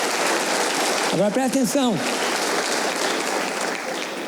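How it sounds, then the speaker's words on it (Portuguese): A church congregation applauding God during a sermon, dense continuous clapping throughout, with a voice speaking briefly over it near the middle. "Aplauda o Senhor, aplauda a Deus"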